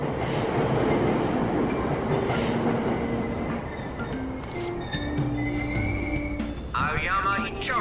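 Train running through a station in the video game Persona 5 Royal, a loud steady rumble with rail clatter and a rising tonal whine near the end, under a recorded announcement voice.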